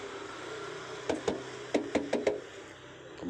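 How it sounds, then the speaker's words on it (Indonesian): Knuckles rap on the body panels of a 2009 Daihatsu Terios TX manual during a used-car inspection: two sharp knocks, a pause, then a quick run of four, close and distinct over a quiet background. "Kita ketok-ketok nih."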